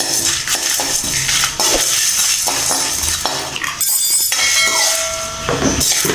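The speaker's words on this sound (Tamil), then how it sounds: "வர மிளகா நம்ம ட்ரையாக அதை வறுத்துப்போம்" Dry clattering and scraping in a metal pan as dried red chillies are dry-roasted, stirred and tossed, with scattered clinks and rattles throughout, close by and fairly loud.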